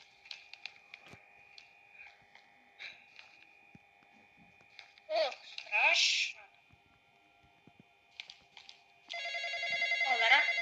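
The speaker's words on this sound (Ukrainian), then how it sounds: "хто дзвонить, допоможи" An electronic phone ring in a Roblox game trills in bursts among sparse game sound effects, ending in a loud sustained ringtone.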